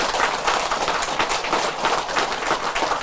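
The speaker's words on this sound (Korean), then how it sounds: "박수 쳐주세요" Audience at a Buddhist lecture breaks into dense, steady applause, many hands clapping together at an even loudness throughout, with no voices.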